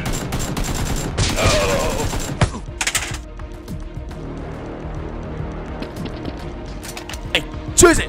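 Toy Nerf guns firing in a mock battle, with rapid bursts of sharp shots, some in quick volleys and others spaced apart, mixed with shouting voices.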